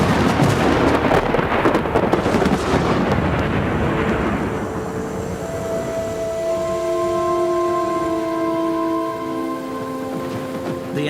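Heavy rain pours steadily in the Amazon rainforest, with a deep rumble of thunder rolling through the first few seconds before sustained tonal sounds rise over the hiss of the downpour.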